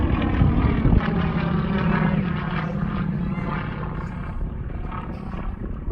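Chinese-built propeller warbird flying at the Parkes airshow, a loud, steady droning roar from the engine and propeller that stays near and fairly constant throughout.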